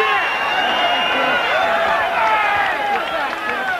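An arena crowd at a 1984 heavyweight boxing bout roars and cheers continuously after a knockout, a loud, dense wash of voices with a commentator talking over it.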